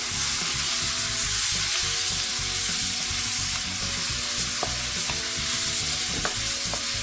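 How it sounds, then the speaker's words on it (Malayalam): Chopped tomatoes sautéing with onions in a pan for chicken curry: loud, continuous frying sizzle with spatula stirring scrapes throughout, close by and without speech. "അതിലേക്ക് മുറിച്ചു വെച്ചിരിക്കുന്ന തക്കാളി ഇട്ട് വഴറ്റാം"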